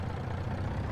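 Tractor engine in Farming Simulator 22 idling steadily, a continuous low mechanical rumble with even, unchanging tone and no other sounds over it.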